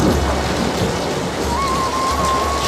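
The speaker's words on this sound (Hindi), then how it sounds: "वर्षा के देव ने जमीन पर सुवासित जल छिड़का" Steady heavy rainfall with a rumbling thunderstorm feel, used as an animated sound effect, loud and continuous throughout, with a faint rising tone near the end.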